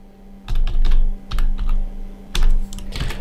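Fast typing on a computer keyboard, close and loud, with clustered bursts of clacking keystrokes separated by brief pauses over a faint steady hum, no talking.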